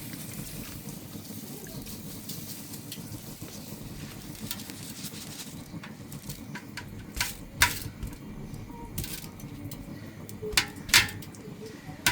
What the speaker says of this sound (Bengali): এখন আমি চালটা দিয়ে দিই। এই যে চালটা ঝরাই রাখছিলাম।